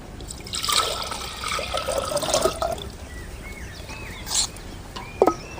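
One litre of water poured into a cooking pot on the stove for toor dal rasam, a steady close trickle and splash running for several seconds and then thinning to a few faint drips and clinks, with no voices.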